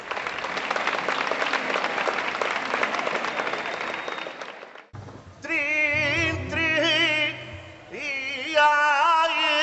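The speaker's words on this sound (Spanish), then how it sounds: "vamos a recibirles con un fuerte aplauso y muchísimas gracias" An audience at a flamenco festival claps loudly for about five seconds, a dense close wash of hand claps. It then cuts abruptly to singing with sustained tones over accompaniment.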